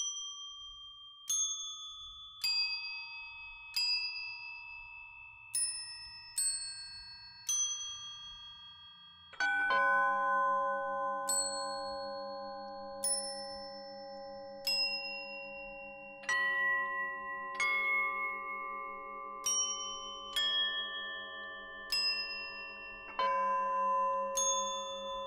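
Synthetic bell tones from the Sonic Pi 'Haunted Bells' example ring out one by one at uneven intervals, each decaying slowly; midway a low sustained drone joins and the chimes keep layering over it.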